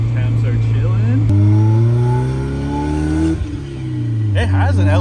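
A Mazda Miata engine in first gear revs loud and close, its pitch climbing steadily and then falling away before picking up again, with a voice talking over the engine.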